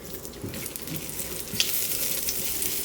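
Chopped shallot sizzles in hot oil in a pan, a close, steady crackling hiss with faint stirring, continuous and without speech.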